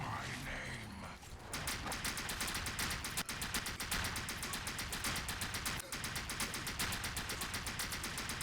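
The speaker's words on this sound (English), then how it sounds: "we're going to switch to our SMG. And continue unloading in him." Rapid, sustained SMG fire in the video game NecroVisioN, a dense stream of closely spaced shots running loud and steady for most of the stretch after a brief quieter opening.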